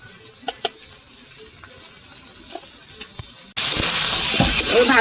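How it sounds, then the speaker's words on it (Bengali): Jackfruit and potato pieces fry with ground coriander and cumin in oil, a few light taps of stirring first, then a sudden loud, dense sizzle as the pan heats and the mix is turned. "ভালো করে নেড়ে চেড়ে কষিয়ে নেবো আরেকটু, আর 2 মিনিট কষাবো"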